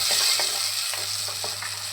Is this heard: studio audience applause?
no